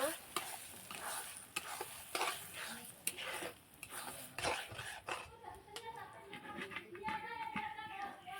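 Fish roe frying in hot oil and being stirred, giving a soft crackling sizzle with sharp spatula scrapes and knocks, while a dog barks briefly and a voice is heard faintly in the background.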